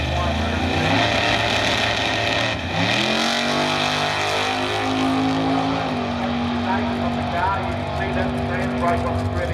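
A big-block Ford Mustang drag car roars down the strip at full throttle, its loud engine note rising steadily through the gears in one continuous run, with a commentator talking over it.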